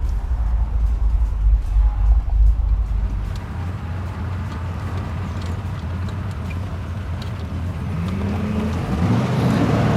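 A 1975 Corvette rolls down the road, its engine droning low and steady from inside the cabin, with road and tyre rumble throughout and a brief rise in engine pitch near the end.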